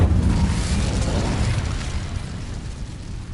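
An Incendio fire spell bursts in Hogwarts Legacy, a loud, close, rumbling whoosh of flame that starts strong and slowly fades over a few seconds.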